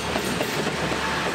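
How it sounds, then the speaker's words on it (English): A slow local train running through rural Japan, giving a steady, close rumble with a faint rhythmic clatter from the wheels on the track. The noise runs the whole time and nobody speaks over it. "very slow train."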